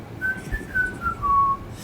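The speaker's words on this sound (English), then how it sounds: "strode along whistling merrily" A man whistles a merry tune while striding along an empty country road, a few clear rising and falling notes sounding close and alone.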